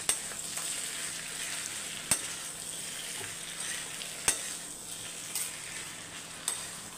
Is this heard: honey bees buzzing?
no